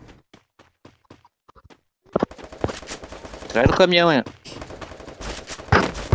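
Sparse faint shots give way to loud bursts of rapid automatic gunfire in a video game, with a voice speaking briefly amid the shooting.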